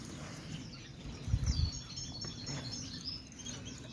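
Small birds chirp and tweet faintly in an aviary within a vegetable garden with orange trees, scattered high calls over a soft background hum, with no talking.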